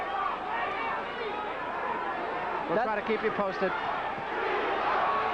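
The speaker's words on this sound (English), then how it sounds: "Listen to the crowd." Crowd at the Pinklon Thomas vs. Mike Weaver WBC heavyweight boxing match, a steady roar of chatter and murmuring spectators filling the arena under a commentator's voice, with a short burst of louder reactions midway.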